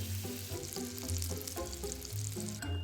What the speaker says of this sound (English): Melt a solid piece of butter in a skillet, 70 grams, and let it properly sizzle.